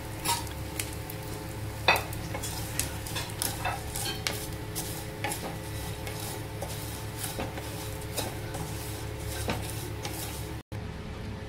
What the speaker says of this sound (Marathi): आता याच्यामध्ये मी शेवळ्या टाकते, त्याला पण भाजून घेते, शेवळ्याला पण